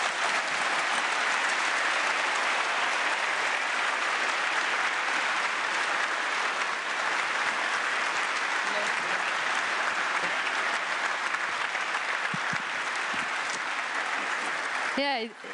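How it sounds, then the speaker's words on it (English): Sustained audience applause after a speech at an EU summit in Antwerp, a dense, steady wash of clapping from a large hall that runs the whole time and cuts off abruptly at the end. "it deserves a round of applause indeed"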